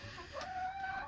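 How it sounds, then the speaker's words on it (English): Chickens cluck softly in an outdoor farmyard, a few faint bird calls rising briefly over quiet background noise, with no talking. "look at all the chickens are up top"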